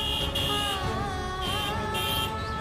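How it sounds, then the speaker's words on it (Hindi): A car horn blares in a long, steady, tonal honk that holds almost unbroken, with slight wavers, at moderate level. "तू कहाँ हॉर्न बजा रहा है भाई?"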